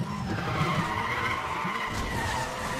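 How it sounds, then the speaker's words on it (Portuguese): Tyres skid and squeal as a car drifts through a sweeping corner in the racing video game Need for Speed The Run, a steady loud screech over engine noise with no talk. "O carro mesmo já faz o drift sozinho aqui, ó. Olha só que bacana o drift que o carro faz, velho."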